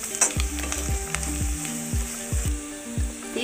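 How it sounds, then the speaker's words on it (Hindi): Spices such as Kashmiri red chili and turmeric fried over a low flame for lauki kofta curry give a soft sizzle, while repeated falling tonal chirps and knocks sit over it, close and without speech. "धीमे आंच में 30 सेकंड तक भूनेंगे।"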